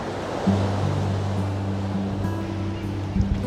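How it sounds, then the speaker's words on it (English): Pacific Ocean surf crashes onto salt rocks below a coastal sidewalk in Newport, Oregon, a broad steady roar of breaking water with a low engine-like hum underneath. "the Pacific Ocean crashing onto the salt rocks below, sending waves that sometimes crash over the sidewalk"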